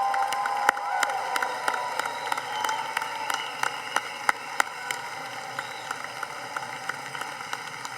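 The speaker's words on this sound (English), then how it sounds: "So all the moms stand up for us and let's give you a round of applause." Clapping at a university undergraduate commencement, honoring mothers in the crowd, starts as a fuller patter and thins into scattered distinct claps that fade over several seconds.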